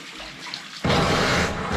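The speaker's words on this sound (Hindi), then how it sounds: "और सीधे देखिए पानी का फोर्स बढ़ गया है और डरा भी रहा है।" Strong, forceful water flow surges in suddenly after a quieter start, becoming a loud, steady broadband rush that fills the rest of the moment, close and continuous with no voices.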